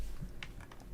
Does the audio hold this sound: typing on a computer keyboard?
yes